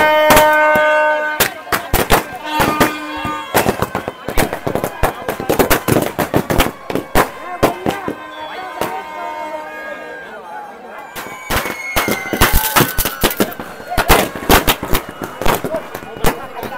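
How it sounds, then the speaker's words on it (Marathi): Firecrackers bursting at a village festival procession in Kunkeri, with dense rapid volleys of loud cracks and bangs and ringing metallic tones between them. Crowd noise runs underneath. "पूर्ण फटाक्यांची आतषबाजी करतात"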